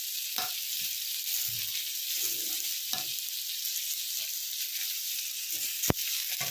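Mango pieces fry in a pan for chutney, giving a steady high hiss with a few soft stirring scrapes and one sharp click near the end.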